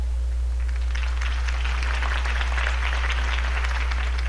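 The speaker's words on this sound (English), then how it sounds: "If only Mr. Wayne, my campaign's largest backer, could have heard that applause" A crowd applauds a speech in a video game cutscene, the clapping building into a broad, steady wash of applause that holds through to the end.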